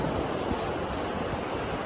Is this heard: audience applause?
no